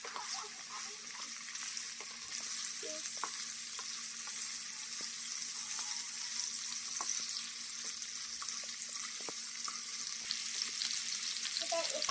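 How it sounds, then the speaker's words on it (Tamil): Marinated prawns fry in hot oil with a steady, close crackling sizzle that runs unbroken for the whole stretch, scattered with small pops and spatters and no talking. "ஆல்ரெடி ஊற வச்ச ப்ரானை நம்ம வந்துட்டு போட்டுக்கலாம் ஒரு ரெண்டு நிமிஷம் நல்லா ஃப்ரை பண்ணிவிட்டு"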